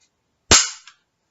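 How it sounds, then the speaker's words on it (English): A single sharp, dry mechanical snap from dry firing a Weihrauch HW60J rimfire rifle, loud and close, followed by a brief faint secondary click as it dies away. "I don't like dry firing a small bore or a rimfire rifle, but for today I will make an exception."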